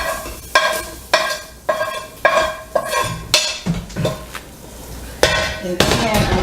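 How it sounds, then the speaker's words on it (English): Andouille sausage is stirred into a pot of grits, producing loud, close, rhythmic scraping and clanking of a spoon against the pot roughly every half second over a low simmering background, with no talking. "And then I'm going to just stir that around."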